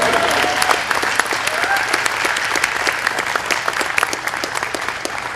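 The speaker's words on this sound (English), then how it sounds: "You can clap" An audience at an athletic department press conference breaks into sustained, dense applause that stays steady for the whole stretch, with no talking over it.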